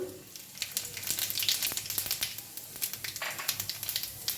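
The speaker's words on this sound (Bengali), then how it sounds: "এবার দেবো সাদা জিরে ফোড়ন।" Cumin seeds crackle and sizzle in hot oil as a tempering for a spicy radish and green pea curry, with close, dense pops and spits over a steady fry.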